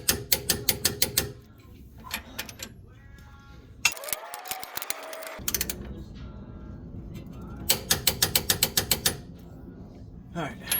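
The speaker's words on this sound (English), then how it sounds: "we'll get the upper mounts tightened, thread locked, tightened, and torqued" Ratchet tightening the coilover upper mounts on a 1994–2004 Mustang being fitted with BC Racing coilovers, heard as quick runs of rapid clicks in several bursts with pauses between them.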